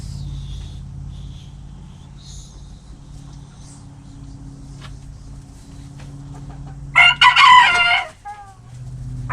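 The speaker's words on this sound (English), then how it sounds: "the other rooster that you keep on hearing crow, that keeps on crowing, is the other rooster" A rooster among a backyard flock of full-size and miniature chickens crows once, loud and close, in a single long call that rises above a steady low hum and faint background chirps.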